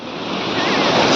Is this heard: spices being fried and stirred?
no